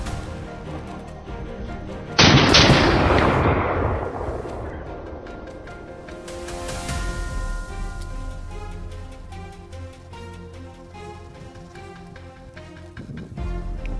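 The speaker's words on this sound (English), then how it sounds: "Without hesitation, he adjusts his rifle's aim and squeezes the trigger." A single loud rifle shot cracks out during a wild boar hunt, with a sharp onset and a long rolling echo that fades over several seconds, then a second dull thump near the end.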